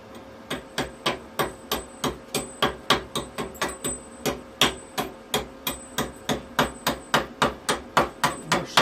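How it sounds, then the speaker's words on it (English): A chipping hammer knocks slag off a 7014 stick weld in about thirty sharp metallic strikes at a quick, fairly even pace, close and loud. "Get the chipping hammer down."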